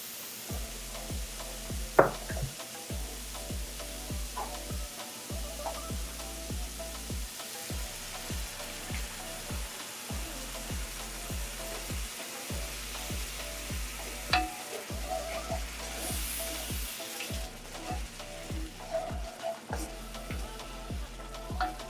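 Steady sizzling and bubbling of a curry powder and water slurry frying in a pan, with occasional stirring scrapes and clinks, close and continuous with no talking.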